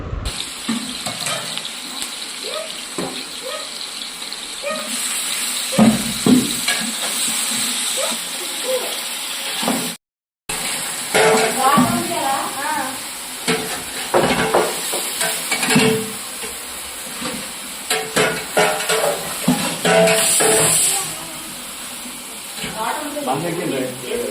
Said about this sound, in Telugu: బిర్యానీ కోసం అయితే తాలింపు వేస్తున్నాను